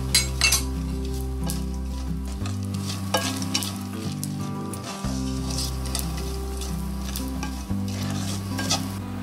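Cashews and peanuts stirred and roasted in a frying pan, a steady sizzle broken by scraping stirs and light clinks of a utensil on metal, close and continuous throughout.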